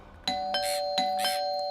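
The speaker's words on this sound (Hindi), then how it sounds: "कोई घंटी बजा रहा है और तुम दरवाजा नहीं खोल रहे हो?" A house doorbell rings twice in a chiming ding-dong pattern, clear and near, with a faint tone lingering between the chimes.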